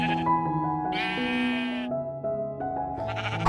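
A Texel sheep bleats loudly and close up, one long, wavering, strongly voiced cry that runs straight into a second quavering bleat, with no other sounds around it.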